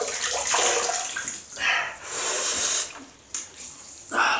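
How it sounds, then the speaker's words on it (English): Water splashing as a face is washed at a sink before a wet shave, close running and sloshing bursts that rise and fall in quick pulses, with no talk. "just wash the face while that's going down"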